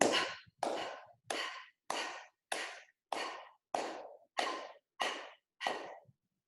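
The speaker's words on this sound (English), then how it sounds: "that is it for the demonstration of the breathing exercises" A person does a deep breathing exercise, ten slow, forceful exhales in an even rhythm, each a breathy rush that fades away, separated by short silent gaps, close and clear with no talk.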